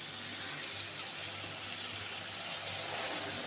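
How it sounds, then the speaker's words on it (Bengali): Water poured into a pan of banana flower curry with potatoes, a steady close splashing flow that lasts throughout, with no other sounds. "এবারে এর মধ্যে আমি সামান্য পরিমাণে জল দেব।"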